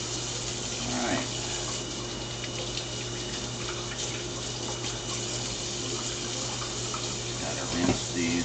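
Tap water runs steadily into a kitchen sink while food is rinsed during meal prep, a continuous close hiss and splash with brief clatter and a voice near the end.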